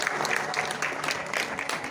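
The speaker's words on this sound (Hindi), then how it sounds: "तालियां बजती रहें।" Dense, steady applause from the audience at the Uttarakhand Shiromani Samman award ceremony marking Mudda TV's fifth anniversary; many hands clap loudly and continuously throughout, with no talk over it.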